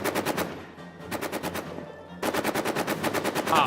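Machine gun in the video game All Quiet in the Trenches firing loud, rapid bursts of regular shots, broken by a brief pause, then a longer sustained stream of fire.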